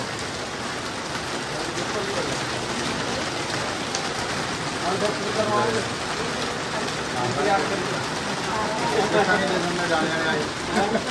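Heavy rain pours down steadily onto a shed roof overhead, a dense, continuous patter heard from beneath the shelter, with voices talking faintly under the downpour.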